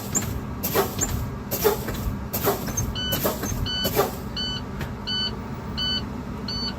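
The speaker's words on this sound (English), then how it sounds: "I will pump my brakes." Truck air brakes pumped repeatedly during an in-cab inspection: a series of sharp hissing air bursts in an irregular rhythm, with low-pressure warning beeps sounding in repeated pulses toward the end.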